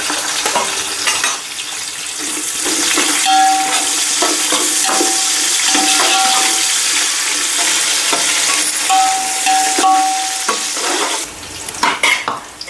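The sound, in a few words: onions frying in hot oil with spices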